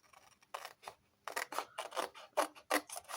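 Scissors snip through paper for an art collage page, close and clear, with about eight short crisp cuts in an uneven rhythm and quiet gaps between them.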